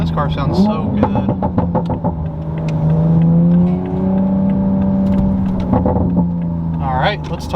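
A widebody Toyota Supra's engine drones and revs while driving, a steady rising and falling note running under a voice talking throughout.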